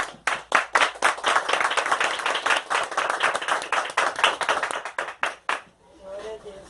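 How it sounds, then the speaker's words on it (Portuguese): A church congregation claps together in a lively, rhythmic round of applause, steady and close for over five seconds before thinning out and fading at the end. "Pode saudar o Senhor com uma salva de palmas."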